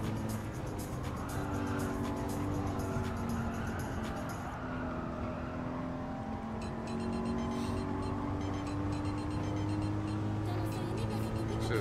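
Racing car engines roar continuously in Gran Turismo 7, with steady loud engine drone, shifting pitch and some tire noise, over music, with no talk.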